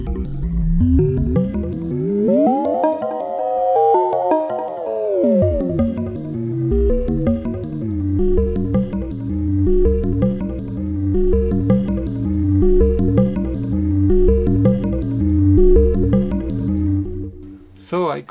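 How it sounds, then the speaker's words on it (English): Synthesizer signal run through a ring modulator with a sine oscillator on the other input, producing clangorous metallic tones with a sweeping pitch glide early on, then pulsing repeated notes over a steady drone, loud throughout. "I'm adding the signal in a ring modulator with a sine wave on the other input."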